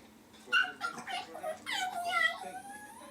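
A chihuahua puppy whines in rising, wavering cries that sound much like a cat meowing, several close plaintive calls strung together over a quiet room.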